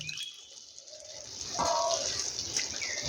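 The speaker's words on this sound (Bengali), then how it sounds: "এবার উপর থেকে অ্যাড করব সামান্য একটু জল" A little water poured from above into a pointed gourd and poppy seed curry in a pan, a brief soft splash and trickle rising midway over faint background noise.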